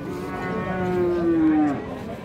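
One long, loud moo from a Friesian or crossbred bull calf at a cattle market in Ambari, close by and rising slightly before trailing off.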